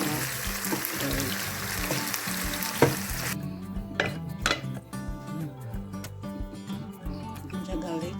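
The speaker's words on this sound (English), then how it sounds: "Ginger, garlic, and onion is being fried." Ginger, garlic and onion sizzle and fry in a pan while a utensil stirs and clinks against it; the sizzling is loud at first, then drops off sharply and leaves intermittent stirring scrapes and clicks.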